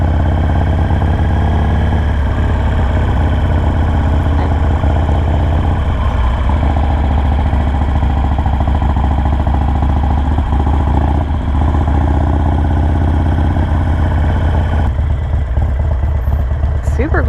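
A motorcycle engine idles steadily close by, fitted with a Saddlemen seat, a continuous low rumble with light clatter running the whole time, loud and near with no talk over it.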